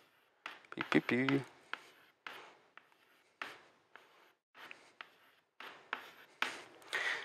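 Electrons are drawn on a lecture board in a series of short scratchy marker or chalk strokes, separated by brief pauses, with a voice heard early on.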